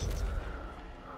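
Gunfire in Fortnite, a short burst of heavy, booming shots with a low rumbling tail, loud and close.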